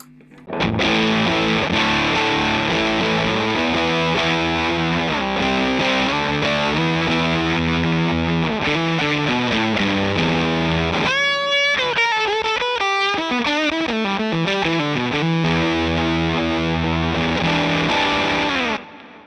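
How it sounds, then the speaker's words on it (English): An electric guitar plays through a Fjord Fuzz Odin pedal, a buzzy, spitty, sputtering fuzz with thick distorted chords and a brief high squealing run midway, loud and continuous with no talking. "You can hear it's quite a spitty sounding fuzz."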